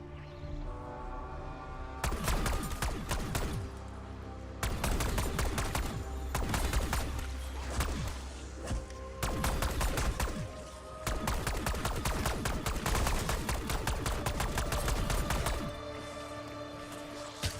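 Rapid bursts of gunfire from the video game Black Ops 6 during body-shot testing, several long loud volleys separated by brief pauses, with no talk.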